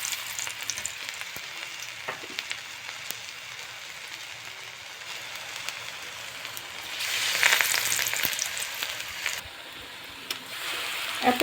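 Pitha fries in hot oil, giving a soft, continuous sizzle that swells into louder bursts of spattering midway and again near the end. No voices.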